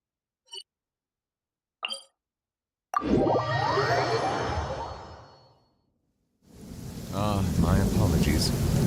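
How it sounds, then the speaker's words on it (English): Two faint chimes, then heavy rain and a loud rolling thunderclap in the video game Genshin Impact. The roar swells and fades, goes quiet briefly, then a dense downpour returns. "This heavy rain must be quite an inconvenience for you."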